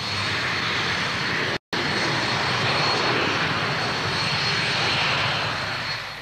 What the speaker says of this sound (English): The Viking is a carrier-borne anti-submarine aircraft, which has no equivalent in the British forces.